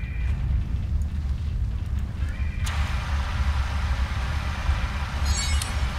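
Fire suppressor extinguishing fires in the space game Star Trek Online, a steady loud hissing rush over low rumble, with a sharp burst of brighter spray partway through.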